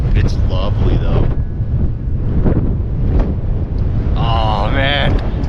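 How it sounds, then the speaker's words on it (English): Strong wind roars and buffets the microphone throughout on a snow-plastered mountain ridge at about 8,300 feet, loud and continuous, with a person speaking over it. "the wind's blasting"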